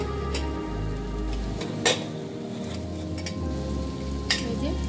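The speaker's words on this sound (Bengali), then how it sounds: "এবার মশলাটাকে ভালো করে কষিয়ে নেব" Spice paste sizzles steadily as it is cooked down in a pan for a prawn and jackfruit curry, with a continuous frying hiss and a few brief scraping clinks of stirring, fairly close and without talk.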